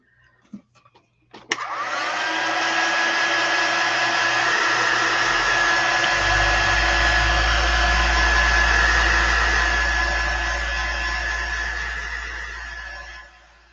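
A handheld heat dryer whirs steadily after a few small handling knocks, a loud continuous airy drone with a tonal whine held for several seconds before easing slightly as it winds down.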